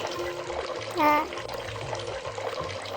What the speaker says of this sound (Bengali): তো আমরা আবার দ্বিতীয়বার কলসটা পরিপূর্ণ করব পানি দিয়ে